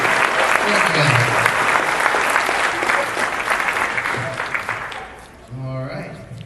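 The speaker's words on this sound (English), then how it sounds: "give a big round of applause here for Mark of the Ronnie Group" Audience applause at a costume contest fills the room with dense, sustained clapping from a large crowd, tapering off near the end as a voice begins speaking over it.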